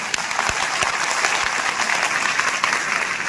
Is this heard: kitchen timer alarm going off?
no